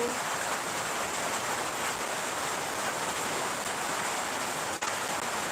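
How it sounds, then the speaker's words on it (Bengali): Heavy rain falls steadily throughout, a constant soft hiss of water on surfaces at moderate distance, unbroken and without talk. "আমাদের এখানে প্রচুর বৃষ্টি হচ্ছে"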